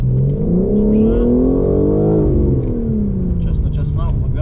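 A BMW race car accelerates hard, its engine note climbing and dipping through the revs in a loud, continuous drone close by, with a voice talking over it.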